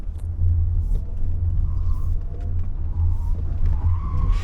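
A 2024 Lexus RZ 450e electric car weaves through a slalom on a test course, with loud, steady tire rumble and road roar and brief squeals as it changes direction.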